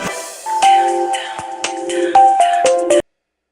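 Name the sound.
phone ringing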